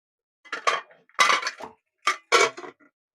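A lid goes onto a cooking pot of potato, taro and prawn curry: a few close metallic clatters and clinks in short bursts, separated by brief silences.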